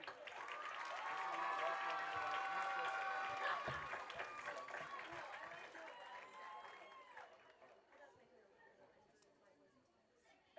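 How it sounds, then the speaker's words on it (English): A crowd applauds and cheers at a high school football championship game, a dense wash of clapping that peaks early and then gradually thins out, with some chatter mixed in. "let's give a big round of applause for this year's runner-up"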